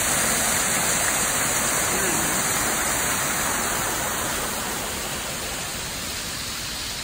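Flowing water at Mizumoto Park, a steady broad rushing hiss like a weir or cascade, close and loud throughout, easing slightly toward the end, with a high electronic whine faintly in the background.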